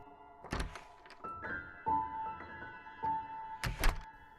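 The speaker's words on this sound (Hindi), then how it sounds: "तभी मुझको अपने फ्रंट डोर की खुलने की आवाज़ सुनाई दी।" In a Hindi horror story, a front door is heard opening, marked by several dull thunks and clunks spaced over a few seconds, with a brief creaky tone between them against a quiet background.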